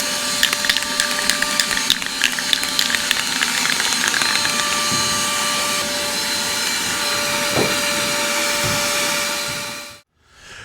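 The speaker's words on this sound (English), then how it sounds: "My fantastic helper over here is gonna do the vacuuming." A vacuum cleaner cleans an aluminum 14 ft jon boat with a steady, loud motor whine and airy suction roar, scattered rattles and clicks as debris is sucked up, before the machine is switched off and spins down.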